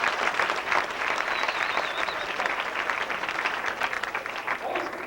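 An audience at a 1991 hypnosis comedy show applauds a volunteer, a broad, even roll of clapping from a crowd that carries on for several seconds with some voices beneath it.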